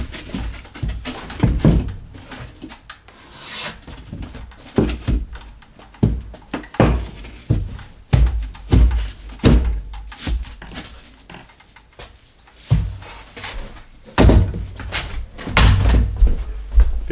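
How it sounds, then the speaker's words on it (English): Siding nails being hammered into wall panels, a series of sharp, heavy close thuds in irregular clusters of strikes with quieter gaps between. "We're nailing these in with siding nails"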